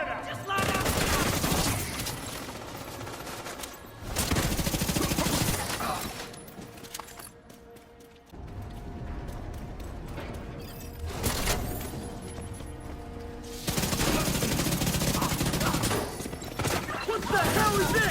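Rapid automatic gunfire in Division 2: a deployed turret fires sustained bursts over other shooting and glass-breaking effects, with loud bursts separated by short lulls and a voice speaking now and then.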